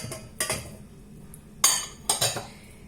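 A metal saucepan clanks and clinks a few times in short bursts, close by, separated by brief quiet pauses, while juice is prepared from carrot and apricots.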